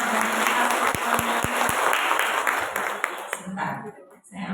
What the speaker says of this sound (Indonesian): Boleh saya dengar tepuk tangan semangatnya bagi kita semuanya.